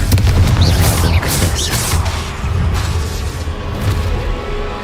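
The Confringo explosive spell in the video game Hogwarts Legacy goes off as a loud, continuous rumbling boom with crackling bursts and whooshes close up, lasting several seconds without talk.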